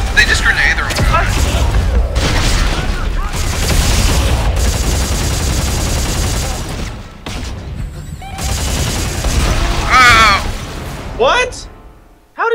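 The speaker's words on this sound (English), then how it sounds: "A grenade blew up under me" Grenade blasts and gunfire in the sci-fi shooter Dead Space 3, loud dense booms and rattling shots filling the scene with a sustained roar, brief gaps, and a final sharp burst.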